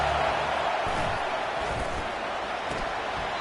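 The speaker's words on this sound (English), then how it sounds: "The roar of the crowd trying to fuel this defense to keep them pinned in their own end" A college football crowd roars to spur on the defense in a packed stadium, heard as a steady, muffled wash of noise at a distance with no distinct voices standing out.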